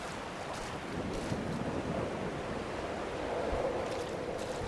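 Waves wash and splash steadily on a windswept shore in the game Dear Esther, a continuous broad roar of surf with gusting wind, no voices.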